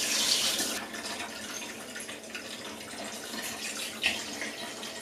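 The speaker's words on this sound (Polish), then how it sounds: "to tutaj zalewam wodą zimną." Cold water runs from a tap into a pot in a steady splashing stream that stops briefly, then a softer trickle continues with a small splash near the end.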